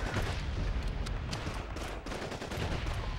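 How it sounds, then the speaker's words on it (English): Rapid machine gun fire from a Call of Duty 2 World War II battle rattles in dense bursts, loud and near, with overlapping shots and booming echoes that keep going almost without a break. "Another machine gun to the right."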